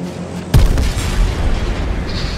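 A bomb explodes in a video game, a sudden loud, close boom followed by a rumbling, decaying roar of debris that fills the rest of the moment, with no speech.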